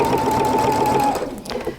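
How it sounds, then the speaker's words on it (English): PFAFF creative icon sewing machine edge stitching through three layers of heavyweight denim, running in a steady close whir for over a second, then slowing and fading. "Just do kind of an edge stitch along there."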